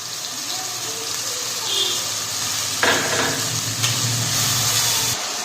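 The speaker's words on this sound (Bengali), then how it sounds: "দিয়ে হালকা একটু নাড়াচাড়া করে সেই সসটা দিয়ে দেব" Sauce poured into a hot frying pan for a chilli soybean dish sizzles steadily, and a sudden louder hiss and bubbling burst erupts midway as the liquid hits the oil, with a light scrape of stirring.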